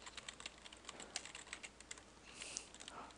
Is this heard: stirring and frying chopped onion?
no